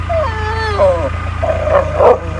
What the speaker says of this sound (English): She does one bark for please.